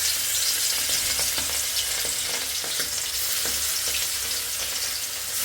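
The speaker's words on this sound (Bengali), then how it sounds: "একটু মাংস ভাজবো এখন" Meat sizzles steadily in a hot pan, a dense continuous crackle with small pops scattered throughout, close and fairly loud with no talking.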